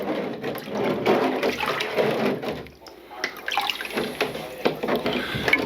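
Water running from a tap into a rusty BSR cast iron skillet tilted to fill it for soaking, a steady splashing pour that falters briefly midway, with no talk over it.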